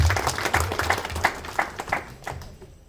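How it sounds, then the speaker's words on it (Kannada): An audience at a spiritual talk program gives a round of applause, close, distinct claps in a fairly regular rhythm that thin out and fade within a few seconds. "ಅವ್ರಿಗೊಂದು ಪ್ರೀತಿಯ ಚಪ್ಪಾಳೆ ಬರಲಿ."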